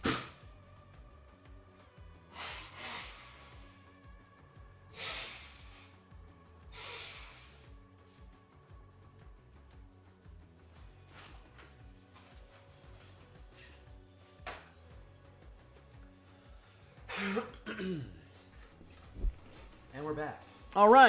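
Someone blows their nose in several short, breathy honking bursts, a few seconds apart and somewhat distant, in an otherwise quiet room with a few small incidental noises toward the end.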